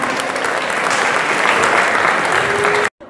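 Crowd applause at an anniversary fan festival, loud and sustained from many hands, a continuous dense clapping that cuts off abruptly near the end.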